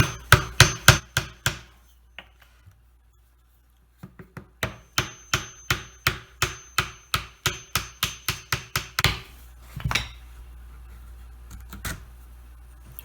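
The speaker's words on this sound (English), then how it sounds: "Now I'm going to try to take a block of wood and drive out the remaining part of the leg here." Sharp, rapid hammer-like blows of a wood block striking and driving out a broken leg from an antique circa-1810 mahogany candlestand, two bursts of about a dozen close, loud knocks separated by a pause, then a few isolated hits.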